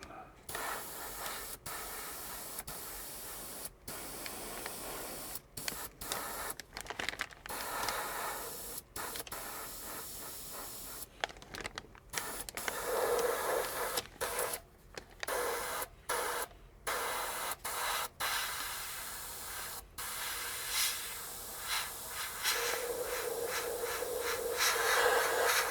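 An airbrush sprays a flat clear coat onto a model railroad boxcar, giving a steady close hiss in bursts. Frequent brief stops and clicks break it, and the hiss changes pitch near the end.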